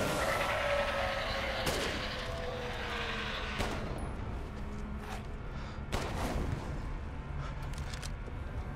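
Gunshots in Resident Evil Village, several sharp reports spaced a second or two apart over a busy, rumbling background, moderately loud with no talk.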